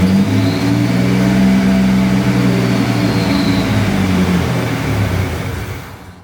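A Jeep that barely runs, with a high idle near 3,000 RPM, cranks and starts, then holds a loud, steady, rough engine roar with revving for several seconds before fading out near the end.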